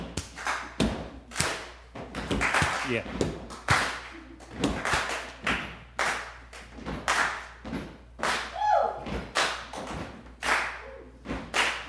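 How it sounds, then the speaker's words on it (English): An audience at a live comedy show stomps and claps a steady beat together: sharp repeated thuds and claps in a regular rhythm, loud and close, with a brief spoken word near the end. "could I just start with like a little bit of a stomp clap"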